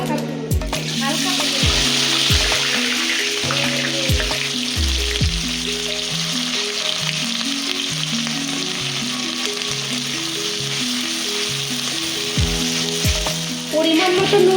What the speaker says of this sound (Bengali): পেঁয়াজটা প্রায় ফ্রাই হয়ে গেছে